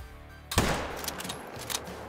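A single sharp rifle shot rings out in the hunting game Call of the Wild, fired at a sheep, then a rolling echo fades across open terrain. It is loud and close, with no talking.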